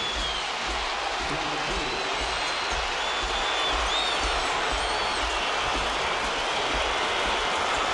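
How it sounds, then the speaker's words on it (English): A packed Yankee Stadium crowd roars continuously as Derek Jeter comes to bat at a 2009 Yankees baseball game, a dense, sustained wash of cheering with no break across the whole stretch. "Listen to this crowd."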